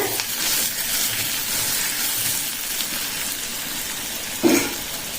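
Onions sautéing in a pan for a coconut kurma give a steady broadband sizzle that holds evenly throughout, with a brief louder clink or scrape near the end.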